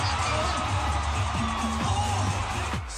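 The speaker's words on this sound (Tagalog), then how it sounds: "Mas lumakas ang hiyawan sa pangmalakasang opening." A concert crowd at a reunion opening screams and cheers continuously, a loud, dense mass of shouting and whoops heard close and over booming music.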